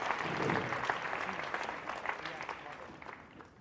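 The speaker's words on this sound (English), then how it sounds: "Please give him a big round of applause for trying" Audience applause at a national quiz finals, a dense steady clapping that swells early and gradually fades out over a few seconds.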